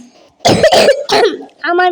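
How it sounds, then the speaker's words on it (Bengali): A person coughs several times in quick succession, close and loud, followed by a short throat-clearing sound. "আমার কাশি হয়েছে"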